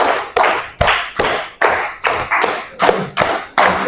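A school class in Indonesia claps a counted rhythmic pattern, about ten sharp, loud group claps in steady succession, close and clear with no talking over them.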